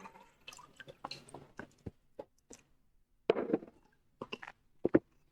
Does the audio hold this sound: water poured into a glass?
yes